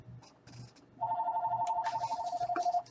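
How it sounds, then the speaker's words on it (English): A telephone rings during a Rule the Waves naval strategy game session, a steady electronic warbling ring that starts about a third of the way in and continues loudly to the end, after some faint background sounds. "And of course, I get a phone call."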